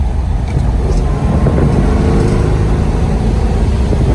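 A 1970 Plymouth Cuda Hemi with a 5-speed gearbox accelerating on the road, its engine a loud, continuous deep rumble heard from inside the car, steady throughout.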